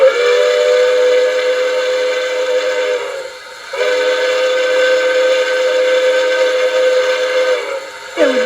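Crossing whistle sequence from an LGB Sumpter Valley model steam locomotive with Zimo sound: a loud, steady multi-tone steam whistle blown in two long blasts with a brief gap, then a quick short toot at the end, alone without speech.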